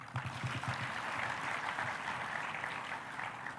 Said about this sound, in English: Please clap for that boy.